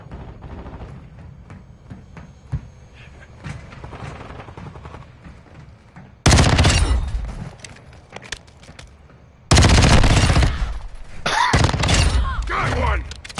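Bursts of video game gunfire erupt after a quieter stretch of scattered shots and talk, with loud sustained automatic volleys near and crackling, then a second heavy burst continuing alongside voices.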